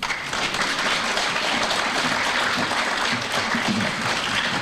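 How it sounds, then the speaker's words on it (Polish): A concert audience claps for a performer about to come on stage, an even, sustained wash of applause that stays loud and full throughout, with no speech over it. "dajcie mu szansę oklaskami."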